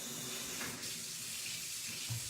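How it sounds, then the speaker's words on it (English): Hot water runs steadily from a kitchen tap while baking banana bread chocolate chip cookies, a continuous soft hissing gush with faint background clatter and no talk. "Get the hot water going"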